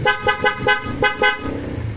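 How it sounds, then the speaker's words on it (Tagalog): A Mitsubishi Xpander's aftermarket Bosch Europa horns honk in a quick series of short toots, about six blasts in two seconds, loud and close, followed by a lower fading tone. "pwedeng malakas ang busina, pwedeng stock horn"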